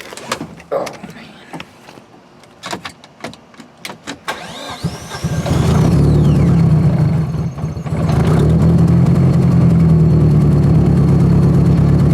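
Nissan 240 with a CA engine and a cracked downpipe exhaust leak: door clunks and rustling, then the starter cranks and the engine catches into a loud, rough, uneven idle that rumbles steadily up close.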